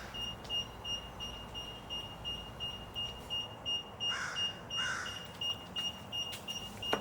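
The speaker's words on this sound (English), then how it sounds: "That beeping is designed to give you notification that you've made it inside of the garage and that you're clear." Tesla parking sensor alert sounding inside a garage, a steady high-pitched electronic tone running continuously throughout, fairly faint under broadband room noise with a couple of brief louder bursts midway.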